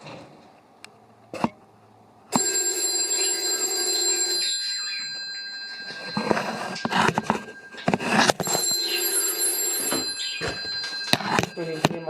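An old PMG 400 series telephone under restoration rings with a bright metallic bell, a sustained clanging burst followed by another after a brief pause, close by, with a voice speaking around it.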